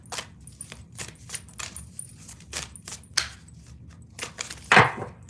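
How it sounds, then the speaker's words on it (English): A deck of angel cards being shuffled by hand, a close run of brisk papery riffles and taps ending in a louder flurry. "I'm going to shuffle 3 more times."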